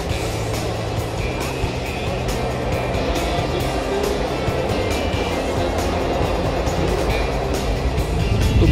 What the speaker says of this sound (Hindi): ब्रिज के ऊपर से ट्रेन गुजर रही है